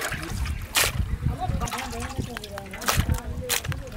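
Water splashing and trickling while rohu fish is rinsed by hand for a mountain-style bamboo shoot curry, with sloshing pours and drips close by, a voice talking over the washing.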